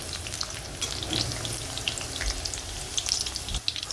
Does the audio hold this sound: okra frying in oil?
yes